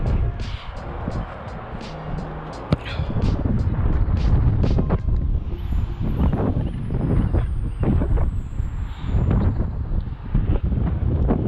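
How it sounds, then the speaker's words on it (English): Wind blowing across an open footgolf course in England, buffeting the microphone with a loud, continuous low rumble and gusty surges throughout, broken by a few brief knocks. "Enjoying the wind, the breeze."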